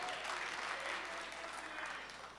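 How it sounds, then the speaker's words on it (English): An audience claps at a K-8 student film festival screening and awards session, a dense, steady round of applause that fills the hall and tapers slightly at the end. "big round of applause"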